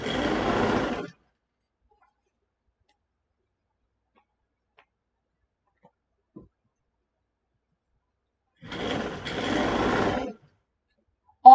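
A domestic sewing machine runs a zigzag stitch along fabric for an arm shawl in two short bursts, about a second and then two seconds long, separated by silence.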